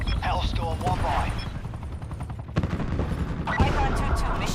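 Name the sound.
attack helicopter firing in video game Black Ops 4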